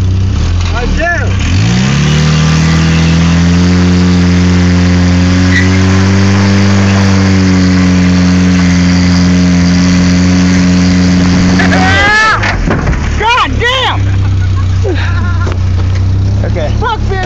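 A pickup truck engine revs hard and holds at a high, steady roar for about ten seconds during a burnout, then drops back to a rough idle while voices talk nearby.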